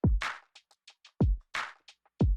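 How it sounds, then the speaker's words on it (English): A dry, programmed drum beat with deep kick hits, snappy snares and short hi-hat ticks in a slow, steady groove, with no reverb tail. "So dry, our drums sound like this."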